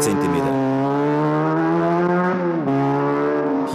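BMW 1000 cc racing sidecar motorcycles roar loudly and steadily with a strong engine drone that shifts pitch partway through, with speech audible alongside it.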